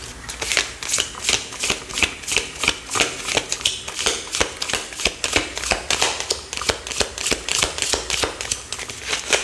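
Tarot cards being shuffled by hand, a steady run of crisp riffling bursts in a regular rhythm, close and fairly loud with no talking.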